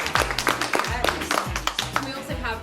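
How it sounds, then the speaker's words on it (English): A small group claps at a school bake off, giving a brief round of sharp, uneven hand claps with a few louder strikes, close and lively. "Can we have a round of applause?"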